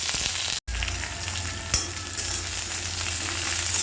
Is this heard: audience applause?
no